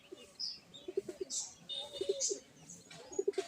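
Black-green pigeons coo in soft, low rounded bursts, several short runs repeating, with brief higher chirps from small birds scattered over a quiet background.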